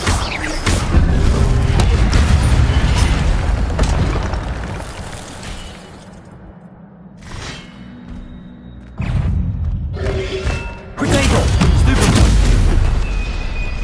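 Incendio fire spell cast in the PS5 game Hogwarts Legacy, heavy booming fiery blasts and roaring bursts, loud and close, with a quieter lull in the middle before renewed explosive surges.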